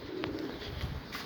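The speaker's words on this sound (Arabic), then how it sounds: "حتى على الدرج هم نازله طيور" Rooftop pigeons give soft cooing calls over a quiet outdoor background, fairly faint and brief, with no talk.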